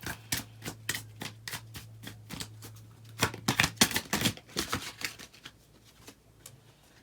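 Tarot cards are shuffled by hand in a quick run of crisp, flicking riffles, first steady and separate, then a faster, louder cluster before thinning out, heard close and alone over a low steady hum.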